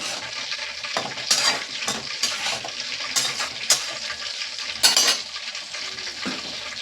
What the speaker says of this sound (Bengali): তেলটা আমার গরম হয়ে গেছে। আর দেখুন আমি যে ফোড়নগুলো দিয়েছিলাম সেগুলো কিন্তু আমার একটু একটু ভাজা হয়ে গেছে।